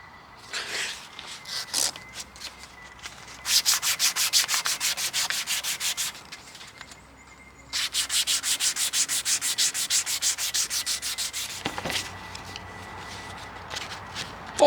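Sanding with 400-grit sandpaper, two long bursts of fast rhythmic rubbing strokes separated by a short pause, preceded by a few brief scuffs, loud and close with no voices.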